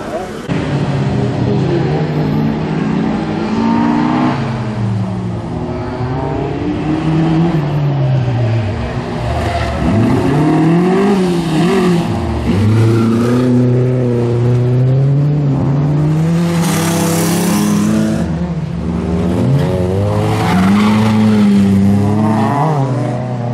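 Junior rallycross cars race around a track, their engines revving and whining in rising and falling sweeps as they accelerate and pass, loud and continuous under a commentator's talk.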